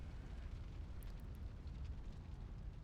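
An explosion in the video game Ni No Kuni 2 comes through as a low, continuous rumble that stays fairly quiet and steady for the whole stretch, with no clear sharp blast.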